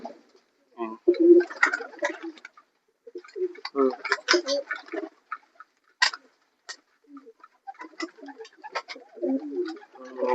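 Young racing pigeons cooing in a loft during breeding preparation, soft repeated coos and rustling from several birds close by, with a few faint clicks and knocks between.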